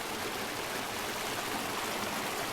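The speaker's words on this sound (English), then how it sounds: "A view of the outlet stream here at Thimbleberry Lake." Outlet stream of Thimbleberry Lake near Sitka, Alaska, flowing steadily, a close, continuous hiss and rush of running water with no voices.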